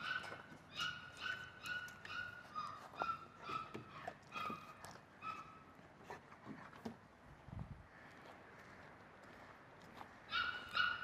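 Dog barking repeatedly on a speak command during a training session meant to teach a non-barking dog to bark; short yips and barks recur in a steady rhythm, fairly near, with a quieter stretch before barking resumes.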